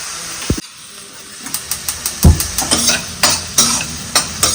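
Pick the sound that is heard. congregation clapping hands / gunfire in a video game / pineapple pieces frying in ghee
pineapple pieces frying in ghee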